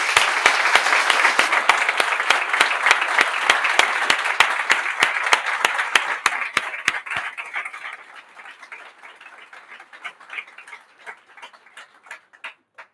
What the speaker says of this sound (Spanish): ara que hi som tots, un fort aplaudiment.